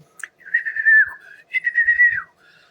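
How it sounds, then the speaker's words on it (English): Two long whistled notes, each held and gently wavering before falling off, loud and close with brief silences around them. "I whistled."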